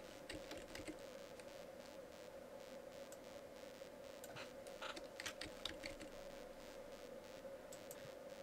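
Quiet, steady typing on a computer keyboard, a soft run of clicks with a few brief pauses over faint background hiss, with no talking.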